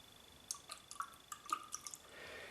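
Hot water drips inside a Steve Farragher Big Shave first edition shaving scuttle, a series of quiet, close, hollow plinks at irregular intervals.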